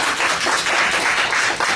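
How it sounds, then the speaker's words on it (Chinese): A room full of people applauding, a brief burst of dense, fairly loud clapping. "掌声鼓励"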